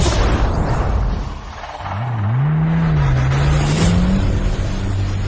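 A car with failed brakes, heard as a loud, continuous roar of a vehicle in motion with a rising and wavering tonal whine partway through, close and steady with no voices.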